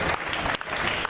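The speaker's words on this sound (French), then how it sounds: "On applaudit très fort." Loud, dense applause from an audience at an awards ceremony honouring local heroes in Côte d'Ivoire, steady sustained clapping filling the whole moment with no voices on top.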